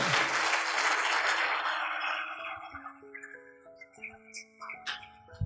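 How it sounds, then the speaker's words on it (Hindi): An audience at a conversation event with Kailash Satyarthi and Anupam Kher gives fairly brief applause that fades over about two seconds. Sparse tonal notes follow, stepping upward. "आप लोगों ने तालियां कम बजाई इस बात पर इनकी।"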